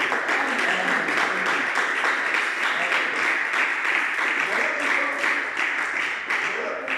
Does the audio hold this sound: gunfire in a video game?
no